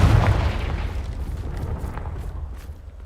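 A Confringo fire spell explodes in the Hogwarts Legacy video game, a loud booming blast at the start that rumbles and decays over a few seconds, with no voices.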